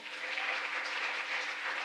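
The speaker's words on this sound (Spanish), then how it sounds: "Puedes dar un aplauso al Señor" A church congregation claps for the Lord during a Spanish-language sermon, giving a steady wash of fairly distant, reverberant clapping with no voices over it, holding level throughout.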